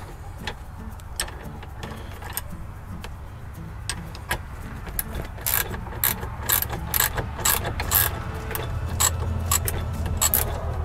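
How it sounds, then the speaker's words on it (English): A ratchet and socket tightening a flanged nut on a bolt in the roll cage of a Honda Pioneer 520 utility vehicle gives quick, repeated mechanical clicks. The clicks start sparse and grow louder and denser toward the end. "I'm holding the back with a ratchet and socket."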